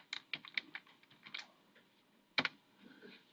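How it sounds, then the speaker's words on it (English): Quiet clicking of computer keys, a short run of quick taps, then a pause and a final louder cluster of keystrokes, close and without talk. "we type in our functions"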